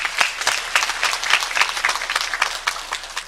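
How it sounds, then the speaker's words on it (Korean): A church congregation at a Sunday worship service claps in sustained applause, loud and close, with distinct individual claps standing out from the dense, uneven crowd clapping. "하나님께 영광의 박수를 드립니다"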